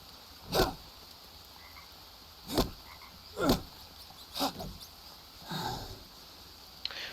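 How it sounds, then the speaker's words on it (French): A frog croaking in the jungle survival video game Green Hell, five separate low croaks spaced roughly a second apart, fairly close and clear over a quiet background with no talk. "Je suis même pas capable de chasser une grenouille."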